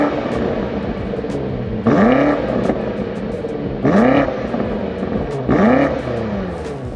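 A 2021 BMW X5M Competition with the M Performance exhaust revs up three times in sharp rising blips. Each blip drops back to a deep, steady idle burble, close and loud, with no speech.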